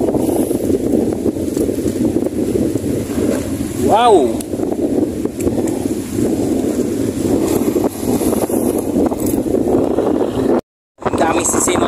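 Sea waves wash against a rocky shore at a fishing spot in Pontevedra, Negros Occidental, a constant loud roar with wind buffeting the microphone, while someone talks over it and briefly exclaims.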